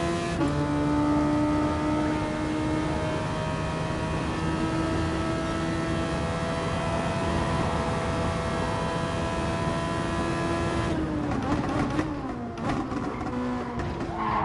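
A race car in the GT Sport video game holds a steady, loud engine drone with a shifting whine, then a few abrupt changes in pitch near the end. No one speaks.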